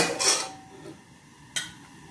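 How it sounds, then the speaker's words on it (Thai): A metal spoon scrapes across a pan while scooping out fried garlic for Thai-style garlic pork, two short scraping strokes about a second apart over faint background hiss. "ช้อนกระเทียมขึ้นมาก่อนเลยนะคะ เดี๋ยวมันไหม้ค่ะ"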